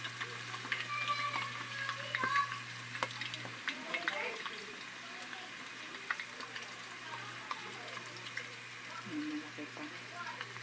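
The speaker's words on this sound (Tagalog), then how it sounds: "Para maprito-prito po siya." Chicken frying in a pan for chicken pastil, a soft, steady sizzle with scattered scrapes and clinks from stirring, kept at a modest level under faint background noise.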